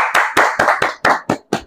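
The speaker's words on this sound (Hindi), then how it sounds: "अपने लिए जोरदार ताली बजाना।" Students clap loudly in a series of about eight sharp, separate handclap bursts at an uneven pace. Each burst is close and strong, with brief gaps between them and no speech.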